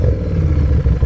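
A second-hand superbike's exhaust rumbles close and loud, a deep continuous low-pitched engine drone.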